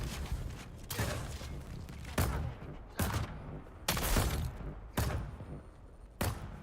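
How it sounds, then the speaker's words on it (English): Level 3 turret gunfire in the Dune Awakening video game, a series of sharp booming shots about once a second, each followed by a rushing decay, fairly faint overall. "Watch how fast a level 3 turret wipes that guy out."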